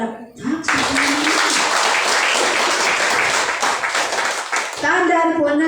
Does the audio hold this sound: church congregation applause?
yes